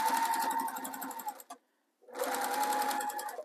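A sewing machine stitching the fabric lining of a Christmas stocking, running in a fast steady whir, pausing for half a second in silence, then starting up again at the same close, even pace.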